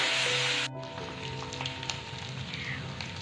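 Goat meat frying in a pan, a steady hissing sizzle that dips after a loud opening moment and carries on evenly, close by.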